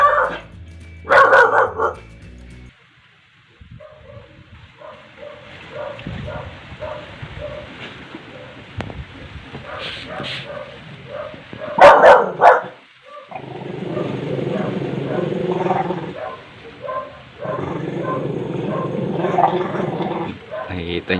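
A dog barks and growls in short bursts, some close and sharp, with a person speaking in between and birds faintly audible.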